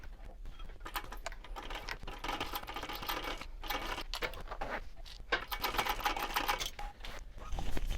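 A sewing machine runs close by, stitching a wristlet piece on with a 3.5 stitch length and a scant 1/4 inch seam allowance, giving a continuous rapid mechanical chatter that grows slightly louder toward the end.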